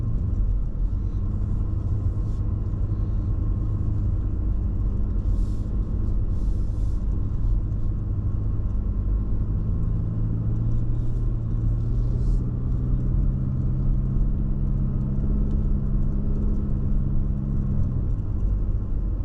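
A car rolls slowly across the Stonelick covered bridge, giving a steady, continuous low rumble with a droning engine tone that holds throughout, close and fairly loud, with no talking.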